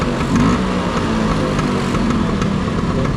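A Honda CBR650R motorcycle engine runs steadily and loudly close by, with a dense, continuous rumble and no speech.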